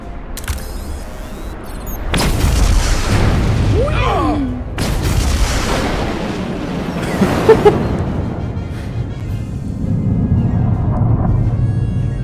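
A deep explosion booms out in a Star Trek Resurgence space scene, followed by a long rumbling roar and several further blasts and crackles, with muffled voices and effects weaving through the low, heavy wash.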